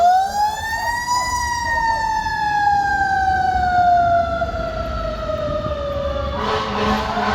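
A city emergency vehicle siren wails loud and close, one long tone sliding slowly down in pitch over several seconds, with traffic rumble underneath and a burst of noise near the end.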